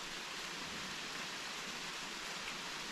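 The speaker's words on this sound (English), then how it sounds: "I like the sound of rain." Steady rain falls continuously as an even, broad hiss at moderate distance, with no voices over it.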